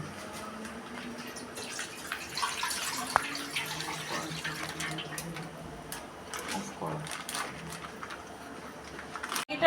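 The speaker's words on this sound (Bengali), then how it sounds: "দুধগুলোকে কেটে আমি এখন এই হাঁড়িটাতে দেব।" Four litres of milk pour into a cooking pot for payesh, a soft continuous liquid stream with light clinks, fairly quiet and close.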